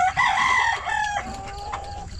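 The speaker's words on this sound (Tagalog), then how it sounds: "Manok." A rooster crows loudly and close by, with hens clucking around it and a second crow trailing off; no talking.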